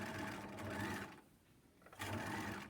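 Bernina sewing machine running an ease stitch on a set-in sleeve: a steady, close mechanical whir that pauses briefly midway, then starts up again.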